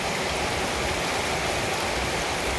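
Steady rain falls during a spell of continuous wet weather at a rural Thai home with floodwater nearby, a dense unbroken hiss with no distinct drops and no voices.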